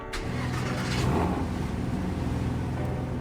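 A Porsche flat-six engine cranks and fires up, settling quickly into a steady, fairly close idle with a brief rise in revs just after catching, no voices over it.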